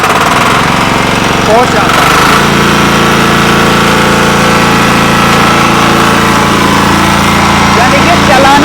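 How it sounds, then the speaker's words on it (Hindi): A diesel engine with recoil and key start drives a mini maize harvester that strips corn cobs, running steadily at close range with a constant low rumble and mechanical clatter while someone speaks over it. "सबसे बड़ी बात है ये आपका इंजन रिकॉइल स्टार्ट है जी"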